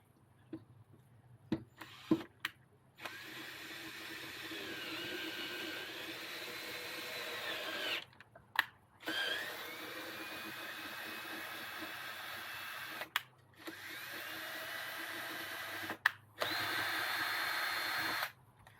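Power drill run in several long bursts while working on a Mountfield rotary mower, its motor whining steadily with pitch dips under load, separated by short pauses and clicks, no talking.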